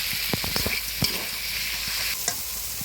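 Chikni shak greens and mixed vegetables sizzling in oil in a pan, a steady close hiss broken by several sharp clicks and scrapes of a spatula stirring, with no voices.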